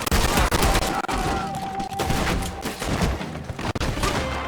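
Red Dead Redemption 2 gunfire: a dense, continuous fusillade of overlapping shots and crackling reports fills the scene, loud and unbroken throughout, with a faint tone running beneath.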